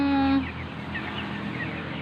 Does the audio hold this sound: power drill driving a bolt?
no